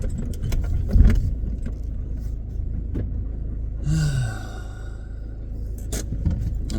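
A car out in the countryside pulls in and comes to a stop, with a low engine rumble, a few light clunks and a short whining tone midway, heard close up from inside without speech.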